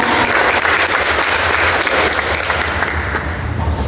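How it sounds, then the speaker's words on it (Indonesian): An audience at a regional quiz competition applauds the contestants with dense, loud clapping that continues steadily for several seconds before easing slightly near the end. "Aplaus dulu untuk peserta kita."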